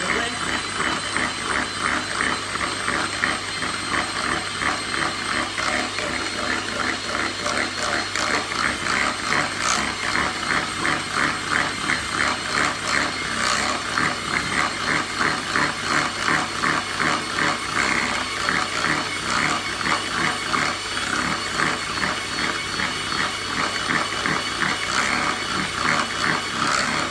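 An electric mixer whirs steadily with a dense, buzzing mechanical rattle while beating gluten-free fairy cake batter, loud and continuous for the whole stretch.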